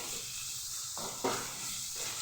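Onion and tomato fry in a pan for godi rava uppittu, a steady soft sizzle with a couple of brief scraping stirs against the pan.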